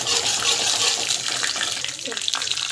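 Chana dal frying in hot oil for a temple-style pulihora (puliyogare) tempering, a steady, loud, close sizzle hissing without a break.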